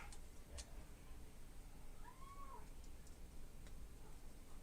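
A pet cat lets out one short, faint meow midway through, over a steady background hiss with a few light clicks nearby.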